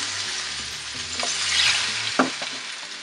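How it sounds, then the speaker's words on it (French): Fish frying in a pan for a peanut sauce dish, a steady close sizzle and crackle with brief spatters and a few stirring clicks, no talk. "On peut faire frire encore l'autre côté."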